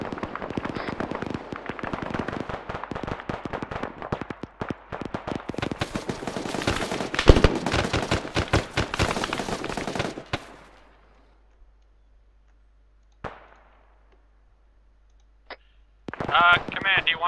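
Rapid bursts of gunfire during a military firefight, dense and continuous for about ten seconds under shouted voices, then stopping abruptly, followed by a few isolated sharp cracks and a final burst.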